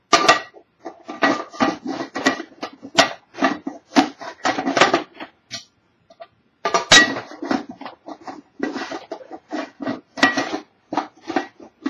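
Metal clanks and scrapes as a lid is worked onto a pressure cooker in a home kitchen, a busy series of irregular knocks and rattles with a brief pause midway, close and fairly loud, with no talking.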